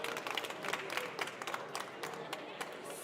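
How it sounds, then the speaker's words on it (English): Audience at an EU enlargement conference panel gives sustained applause for the panelists and moderator: dense, steady clapping from a sizable crowd throughout, moderately loud and slightly distant in a hall. "Please give applause to our excellent panelists and the moderator."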